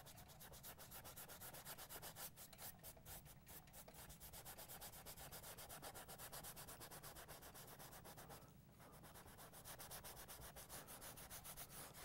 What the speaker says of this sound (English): I keep rubbing the brush against the canvas here